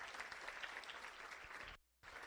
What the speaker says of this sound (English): One more round of applause for our winners.